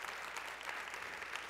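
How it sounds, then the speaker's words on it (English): Steady applause from an audience honoring a woman named Katie, a dense wash of clapping that holds at an even level throughout the short stretch. "Can we just give a round of applause for Katie?"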